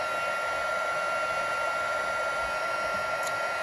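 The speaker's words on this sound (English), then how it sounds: "heating up that lovely black embossed powder" Heat gun blowing steadily on black embossing powder over a stamped butterfly card front, a constant airy roar with a whining high tone, close and unbroken, with no voices.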